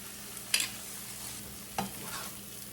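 Eggs go into a pan of breakfast fried rice under a quiet, even sizzle, with two distinct scraping stirs of the spatula cutting through.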